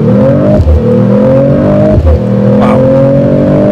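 2024 Mercedes-Benz CLE53 AMG coupe with 4MATIC all-wheel drive accelerating hard in Sport Plus mode: a loud engine note heard from inside climbs steadily in pitch, drops at a quick upshift, then climbs again through the next gear.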